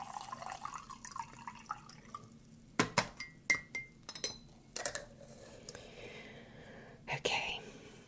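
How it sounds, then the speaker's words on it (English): A spoon clinks a few times against a cup while stirring freshly brewed, slightly overbrewed green tea, sharp irregular taps close by in a quiet room. "Just give that a stir."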